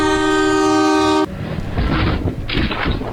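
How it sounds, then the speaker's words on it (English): A fast-moving train on a rail stretch in Hyderabad, India, sounds a loud, sustained horn blast. The horn cuts off into a heavy, close rumble of the train rushing along the tracks. "a train approached"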